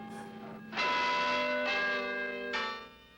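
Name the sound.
automated church tower bells chiming the hour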